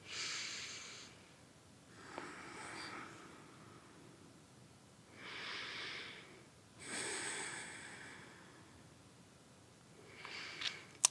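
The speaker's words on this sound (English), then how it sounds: "Take some deep, smooth breaths here." Deep, smooth breaths drawn slowly during seated adaptive chair yoga: four long, soft inhale-exhale swells spaced evenly, airy and close, with no talking.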